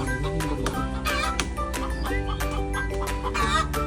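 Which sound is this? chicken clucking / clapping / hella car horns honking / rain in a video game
chicken clucking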